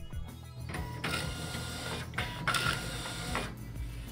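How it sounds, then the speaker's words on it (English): A Zebra ZT411 label printer runs a print job, giving a steady mechanical whir with sharp clicks and rattling feed noises, close and alone. "Confirm file transfer by printing."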